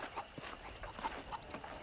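Horse hooves clip-clop at a steady walking rhythm in the video game Red Dead Redemption, faint and even against a soft background hum, with no talking.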